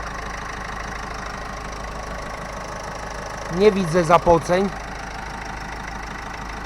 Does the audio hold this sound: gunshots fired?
no